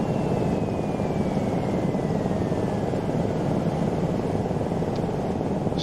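A Lama SA315 helicopter flying in strong winds gives a steady, loud, dense engine and rotor roar that fills the whole clip, with wind noise and a faint descending whine running beneath it.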